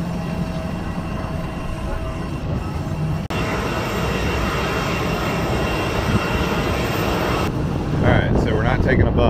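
A steady, loud engine roar hums throughout from an airplane running nearby at Mykonos Airport, with people talking over it.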